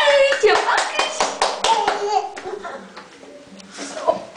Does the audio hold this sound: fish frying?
no